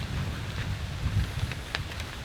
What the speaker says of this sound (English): It is raining, it is cold